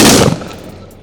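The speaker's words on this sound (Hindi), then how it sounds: "इस डेमोस्ट्रेशन फायर की मुख्तलिफ पोजीशन में फायर करके अपनी दी गई ट्रेनिंग को बुरुएकार लाते हुए" A single loud gunshot from commandos at a firing-range shooting demonstration, a sharp close crack followed by a quick fading echo.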